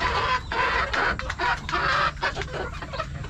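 Roosters and hens clucking close by on a Philippine farm, a busy overlapping run of calls that continues steadily throughout, with no talk.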